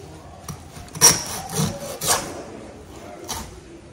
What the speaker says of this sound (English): I'm going to get through the bone, and when I get through the bone, you're going to see a very distinct difference in the sound